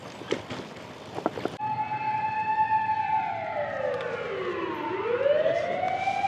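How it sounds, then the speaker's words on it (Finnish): A fire truck siren in Kobe, Japan wails loudly, its tone sweeping down and back up as it passes, after a few short clatters at the start. "Paloauto."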